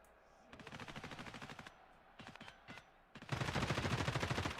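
Automatic gunfire rings out in the Escape from Tarkov shooter, with rapid bursts of shots close by, a sustained burst, short broken volleys, then a louder final burst.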